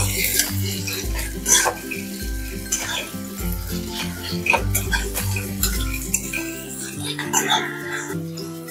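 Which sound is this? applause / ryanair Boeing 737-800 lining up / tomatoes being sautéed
tomatoes being sautéed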